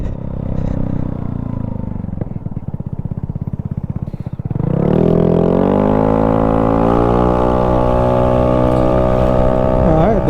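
A Vespa Sprint 150 scooter engine revs and idles with a rapid putter, then rises into a steady, loud drone as the scooter accelerates and cruises on a road, with a whining pitch that climbs and settles.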